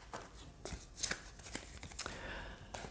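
Oracle cards being shuffled by hand, a quiet run of soft riffling flicks and taps in uneven rhythm, close but faint with no talking.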